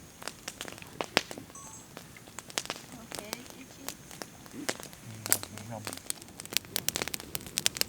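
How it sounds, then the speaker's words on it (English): A campfire crackles and pops with sharp irregular snaps at a wet, muddy off-road camp in British Columbia, close and steady, with people talking in the background. "That's a good fire."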